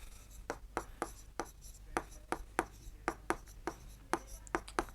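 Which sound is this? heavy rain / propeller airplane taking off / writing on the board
writing on the board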